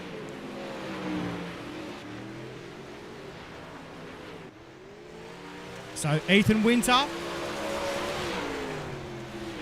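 Sprint cars race around a dirt track, engines droning and revving at a distance beneath steady commentary, with a louder, sharper burst of engine noise passing midway.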